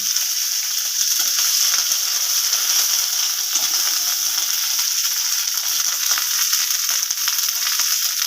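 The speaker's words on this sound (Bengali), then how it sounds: "আর জিরে বাটা, এটা সবটাই দিয়ে দেবো। ভালোভাবে একটু ভেজে নেব।" Ground cumin, ginger and garlic pastes fry in hot oil in a pan for a pumpkin and potato dish, giving a steady, bright, even sizzle throughout with no voices.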